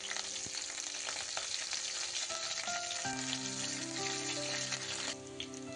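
Chopped onions and curry leaves hit hot oil with dried red chillies in a pan, raising a loud, dense, continuous sizzle that eases slightly near the end.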